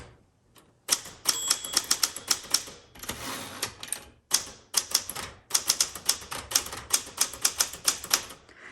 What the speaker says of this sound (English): Backspace does not erase, but you just type over your mistakes.